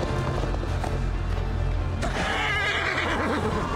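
Horse in Assassin's Creed Valhalla whinnying loudly after a brief pause, a rising, wavering neigh over a steady droning game backdrop, close and prominent.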